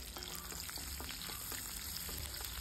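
Crushed garlic sizzles steadily in hot oil in a pan while stuffed bitter gourd is being fried, a continuous close crackle with small pops and no voices.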